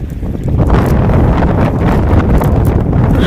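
Strong wind blowing across a large river in the Sundarbans during shrimp fishing, a loud continuous roar buffeting the microphone, steady and close with no talk.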